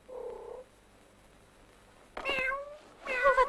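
A cat meows in a French-dubbed Russian fairy tale film, a short purring trill followed after a pause by two louder, drawn-out meows, close and clear.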